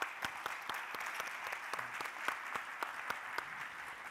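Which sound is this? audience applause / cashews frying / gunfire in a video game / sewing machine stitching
audience applause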